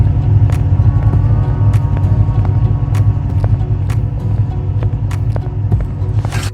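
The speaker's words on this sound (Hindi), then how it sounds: "तो गाइस जल्दी से गाड़ी यहीं खड़ी करते हैं फटाफट से" A car engine idles and rumbles steadily at close range while the vehicle is being parked, with occasional small clicks and knocks over the continuous low drone; no talking.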